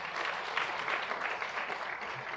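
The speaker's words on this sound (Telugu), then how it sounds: "ఆ బిడ్డకి గట్టి చప్పట్లు కొట్టాడు" A church congregation claps steadily at a Catholic service, a sustained, moderately distant patter of many hands with no break.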